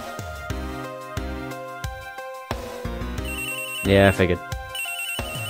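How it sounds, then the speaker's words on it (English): Phone ringtone from the Ace Attorney Investigations: Miles Edgeworth video game, a bright electronic ringing tune that repeats in short bursts alongside game music, with a brief comment spoken over it. "Another phone call?"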